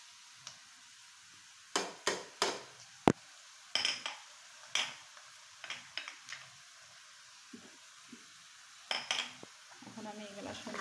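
Ground spices added and stirred into meat in a pan, heard as a series of sharp, scattered spoon clinks and scrapes against the pan over a faint background hiss.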